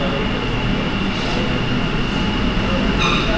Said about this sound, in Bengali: এই ট্রেন ঢুকে গেল